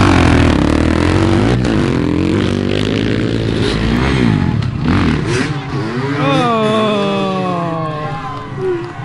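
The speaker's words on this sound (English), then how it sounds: "Probably should have taught Micah how to ride a 450 before he tried to race one." Several 450cc dirt bike engines rev and accelerate loudly through a motocross race, with rising and falling engine pitches sweeping past close by and a crowd faintly underneath.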